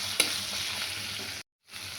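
Turmeric and coriander powder sizzle loudly in a pan as they are stirred, a dense, close hiss that drops out briefly before resuming, with no voices.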